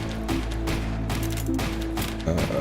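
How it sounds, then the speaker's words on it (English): Rapid gunfire from the survival action roguelike game When The Light Dies crackles in dense repeated bursts over a steady low hum, with mechanical tones layered between shots. "We should get a little bit of light from your gunfire."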